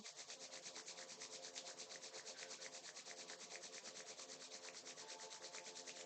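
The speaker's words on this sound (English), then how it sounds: "Rub the palms one more time." Palms rubbing briskly together during a yoga session, a steady rapid swishing friction repeating evenly and continuously, close to the microphone and fairly quiet, with no talk.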